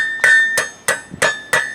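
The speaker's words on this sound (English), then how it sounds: "we use the peen of the hammer and just kind of gently coax it over" A blacksmith's hammer peen strikes hot metal while forming a hook, five sharp ringing clinks spaced evenly about a third of a second apart, loud and close with no voices.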